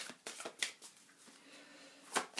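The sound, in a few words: shuffling tarot cards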